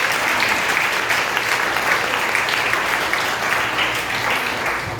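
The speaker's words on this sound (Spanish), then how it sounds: "Si puede aplaudir a Dios." A church congregation breaks into sustained applause during a Spanish-language sermon, dense, even clapping from many hands filling the hall for several seconds without speech.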